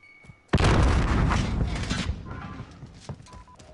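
A grenade goes off in a video game with a sudden loud boom, followed by a rumbling decay and scattered debris over the next few seconds. Faint game sounds come before it, and no one speaks.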